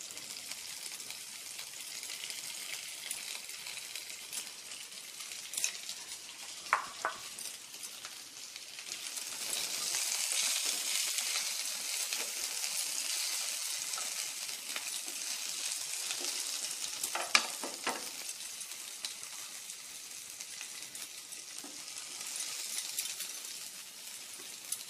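Chopped beans and large rings of onion fry and get stirred in a pan for soup, a steady soft sizzle with occasional clinks and scrapes of the utensil, close and continuous, without speech.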